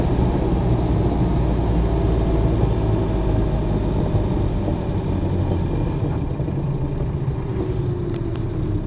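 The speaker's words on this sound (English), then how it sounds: "So nice engine on it, no hesitancy, no overheating." Ex-military Land Rover Defender 90 with a 200tdi diesel engine running steadily, a loud continuous low rumble with a slight pitch drift and no talk.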